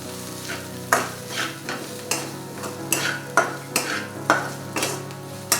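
Spice masala of garam masala, onion masala, coriander powder and salt sautéing in a pan for dhaba-style dahi bhindi, with about nine rhythmic spatula scrapes over a steady close sizzle, no talking.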